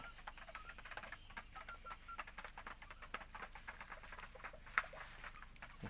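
Faint, scattered clucks and soft chicken chatter from a small flock, with light background noise and one sharper peck or knock.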